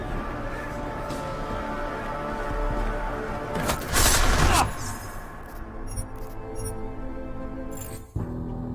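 In Deus Ex: Mankind Divided, a short, loud burst of gunfire erupts midway over steady game ambience, followed by quieter clicks and a sharp thud near the end, with voices present.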